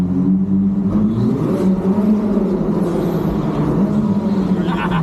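A Ferrari SF90 engine drones steadily with a deep, reverberant exhaust note, rising and falling slightly as it accelerates through a tunnel in Zion National Park.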